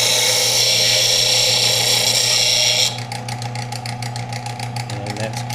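A power sander grinds steadily against a hunting knife blade on sandpaper, loud and close, then shifts partway through into a rougher, pulsing scrape as the blade is swiped across the belt.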